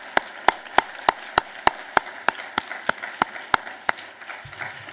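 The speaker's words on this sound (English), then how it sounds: "Let's have a round of applause for her" Steady, rhythmic clapping from an audience at a political rally for worker rights, sharp regular claps over a low murmur of crowd applause, continuing for several seconds.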